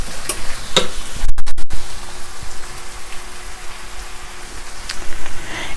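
Ground meat with a tablespoon of tomato paste fries in a pan for an eggplant lasagna, with a close, crackling sizzle and a few stirring scrapes, no talk.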